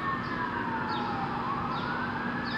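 A police siren sounds in a city setting, faint and distant, with its pitch sweeping slowly down and up under a constant background hum.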